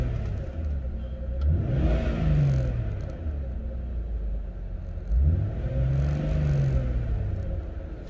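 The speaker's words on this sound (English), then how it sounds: "I'm gonna go ahead and rev it up a little bit so you guys could hear it inside the car stock." A Jeep Grand Cherokee WJ with its stock exhaust revs twice from idle, heard from inside the cabin with the windows down, each rev a deep rising rumble that swells and falls back.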